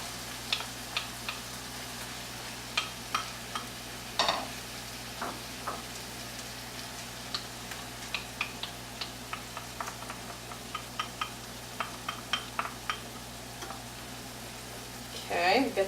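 Sloppy joe meat with tomatoes and ketchup gets stirred in a pan: a low simmering hiss under a regular series of soft clicks and scrapes from the utensil, close and fairly quiet.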